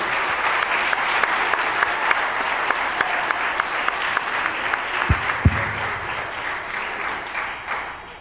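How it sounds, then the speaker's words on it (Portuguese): A church congregation applauds steadily for Jesus, a sustained wash of many hands clapping at even strength for several seconds, fading slightly at the close. "Uma salva de palmas para Jesus"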